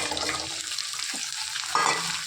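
Garlic and onion sautéing in a pan for Tamil garlic kuzhambu, a loud, constant close sizzle with a couple of brief spatula scrapes, with no voices.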